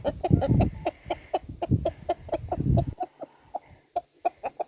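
A rooster and hens cluck close by in busy, overlapping bursts, then settle into short, evenly spaced single clucks.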